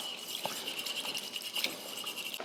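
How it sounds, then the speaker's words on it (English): A whisk beats honey and soy sauce together into a marinade, giving quick, soft scratchy strokes that clink lightly against the bowl, fairly quiet and close with no talking. "I'm gonna whisk this together, trying to get that honey to dissolve into the soy sauce."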